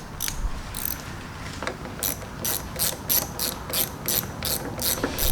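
Rapid ratchet clicks in bursts as bolts are tightened down on a Murray 22-inch lawn mower, close and crisp with short pauses between strokes, no talk.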